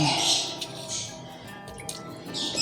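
Tomatoes dropped one after another into water in a cooking pot while making sarson ka saag with mustard greens and spinach, giving a few soft, close splashes and drips.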